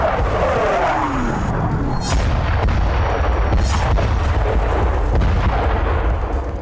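An air strike hits and levels a building, sending a loud deep blast and rumbling collapse with sharp secondary booms and crackling debris, all without speech.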